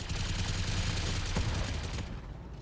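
A mech's lead spitter weapon dumping its whole magazine in BattleTech with the Extended mod, a dense, continuous rattle of rapid fire that holds loud for about two seconds before it cuts off and fades.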